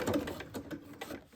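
A sewing machine stitching fabric forwards and backwards while making a dog coat, several short mechanical runs of whirring stitches close by, with no talk.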